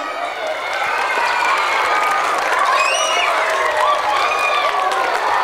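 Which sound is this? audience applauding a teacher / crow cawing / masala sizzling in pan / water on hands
audience applauding a teacher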